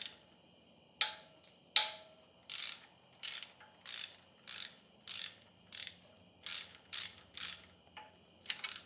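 During the teardown of a BMW M54 engine, a ratchet wrench backs out bolts with a series of sharp, evenly spaced clicks. The clicks are close and distinct, with short pauses between bursts, and there is no talking.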